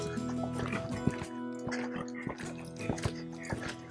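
Horse cantering at an easy pace in an arena, rhythmic hoof thuds repeating steadily under low background sound.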